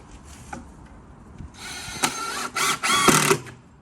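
A power driver sinks 40mm screws into a hinge in a few bursts of whirring and grinding, growing louder and longer toward the end, with quiet gaps between them.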